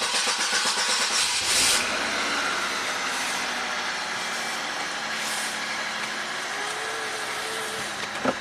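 A 2003 Chevy Malibu V6 cranks and fires up, a short starter whir catching into a loud, close engine that settles into a steady idle hum.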